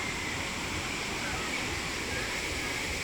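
Wang Phaya Yen waterfall in Saraburi, Thailand, gives off a steady, dense rushing roar of falling water that stays even and unbroken throughout.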